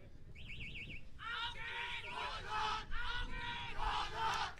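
The German team cheers at a youth shooting competition in the European Youth Cup mixed team final, rising group shouts in several bursts after a brief electronic warbling tone, fairly faint and somewhat distant.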